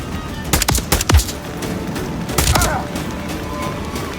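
Enemy gunfire in the Call of Duty Modern Warfare III video game: a quick burst of several loud, sharp shots, then another cluster of shots a moment later over a low ambient rumble.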